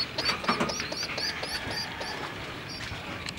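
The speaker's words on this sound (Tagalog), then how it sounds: "bisitahin natin tong breeding station po ng aking mga ibon" Birds in a racing pigeon breeding station: repeated high chirps and calls sound throughout against a constant low hum and background noise, with no talk.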